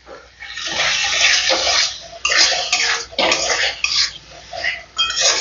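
Lukewarm water poured into a spiced curry gravy with turmeric and sugar in a pan, for dhokar dalna, coming in several close, loud splashing gushes with brief pauses between them.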